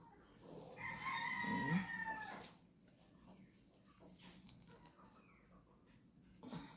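A backyard rooster crows once, loud and close, among chickens, followed by quieter clucks and faint rustling.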